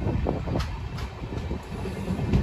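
Steady rumble and rattling of the Mandovi Express rolling into Rajapur railway station, heard from aboard the train as a continuous low clatter with faint metallic clicks and no voices.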